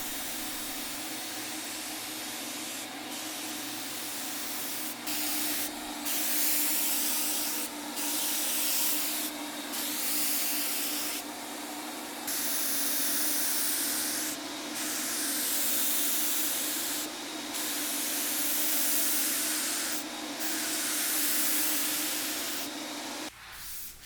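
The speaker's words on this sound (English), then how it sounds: "I'm just doing the final sanding before the final coat." Steady, continuous rubbing hiss of a fine sanding pad working over a 1940s wooden dresser before a final finish coat, with brief pauses and strokes recurring every second or two, close and fairly loud.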